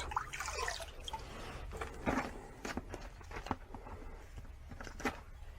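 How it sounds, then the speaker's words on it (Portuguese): A Phalaenopsis orchid seedling is dipped in water before potting in sphagnum moss, giving soft splashes, drips and trickles mixed with handling noises, close and fairly quiet. "então mergulhe na água, para que ela absorva um pouco"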